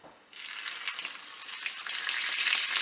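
Kikiam frying in hot oil in a frying pan: a loud, steady broadband sizzle that bursts in after a brief quiet start and stays dense and constant, with no talking.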